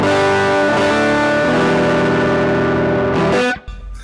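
Heavily distorted electric guitar chords, played through a high-gain pedal directly into an audio interface with no amp, ring out loud and sustained for about three seconds, then cut off abruptly into a brief low rumble.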